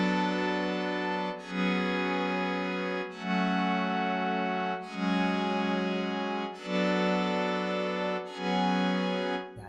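Sustained chords from a stock Cypress violin plugin change every couple of seconds in a slow progression, smooth and moderately loud with a reverberant, layered tone and no voices.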